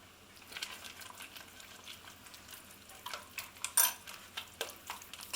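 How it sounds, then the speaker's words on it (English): Spoon stirring Dijon mustard into a vegan mushroom and pepper stroganoff in a pan, with soft scraping and clinking strokes that grow a little louder toward the end. "Give that a good stir in."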